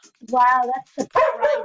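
A dog barks and yelps inside a house in a few short, strained bursts, close and loud, tangled with a person talking.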